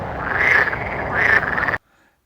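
Frog Lady, the amphibian alien passenger in The Mandalorian, croaks twice in loud, swelling, throaty calls, then abrupt silence.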